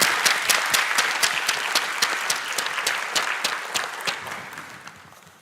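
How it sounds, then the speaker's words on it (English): Loud sustained applause from a large crowd at a university graduation ceremony, dense and steady, slowly tapering off toward the end. "Can we give them a round of applause?"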